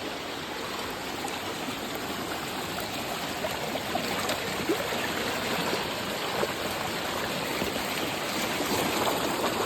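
Stream water swollen by heavy rain rushes past in a steady, broadband roar, close and continuous, with fine splashing and trickling textures throughout and no voices.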